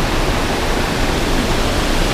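Foaming, churning river water rushing in a Swiss river, a dense steady roar of broadband noise, loud and close, continuous without pause.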